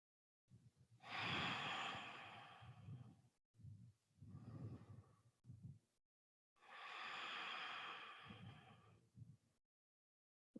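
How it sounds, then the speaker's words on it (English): Ujjayi yoga breathing through a slightly constricted throat during an all-levels yoga class, three long audible breaths with a soft oceanic hiss on both inhale and exhale, close and alone. "Connect to your ujjayi breath with sound as you slightly restrict or constrict the throat as the breath moves past on both inhale and exhale."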